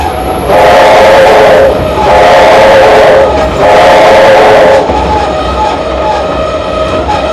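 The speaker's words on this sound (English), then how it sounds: "I can see the whole train coming at this turning point" Steam train at the New South Wales Rail Museum coming round a curve, heard loud and close as a roaring rush of noise with three long, pulsing whistle-like blasts over a constant rumble.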